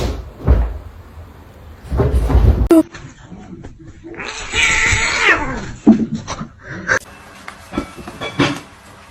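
A little kitten meows in a short, high, wavering cry at close range, surrounded by household bumps and clatter, with faint voices nearby.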